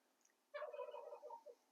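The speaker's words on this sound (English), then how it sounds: "I hope you can hear my turkeys in the background" A domestic turkey lets out a single rippling gobble lasting about a second, faint and distant, against a quiet background.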